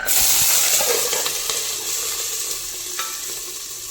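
Green chillies and garlic roasting in a little oil in a pan, a bright close sizzle that fades slightly, with occasional stirring clicks and no speech.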